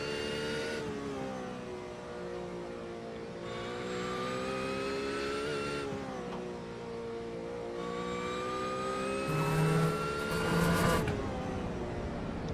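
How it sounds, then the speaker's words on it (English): A Porsche race car's engine howls close by on the Nürburgring. It climbs steadily in pitch through several gear changes, with brief dips between shifts, and stays loud and continuous throughout. "Love the sound of that Porsche."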